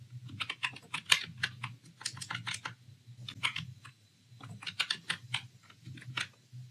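Quick bursts of keystrokes on a computer keyboard as a command is typed, close and fairly loud clicks in uneven clusters with short pauses between, no talking.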